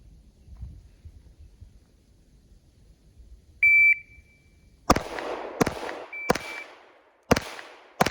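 Electronic shooting par timer giving a short sharp start beep, followed by several loud pistol shots fired in quick succession at an outdoor range.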